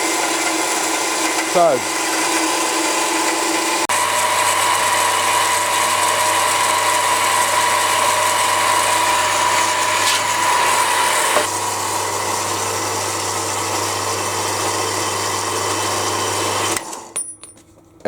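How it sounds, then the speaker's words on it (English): A bandsaw runs steadily for about fifteen seconds, a continuous loud machine drone with a low hum, then winds down and stops near the end; a voice speaks briefly at the start. "I'm loving this bandsaw. You can just let it get on with it and walk away"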